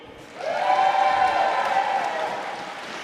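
A curling-final crowd bursts into applause and cheering for Team McEwen, a loud sustained roar of clapping and whoops that swells quickly and then slowly fades.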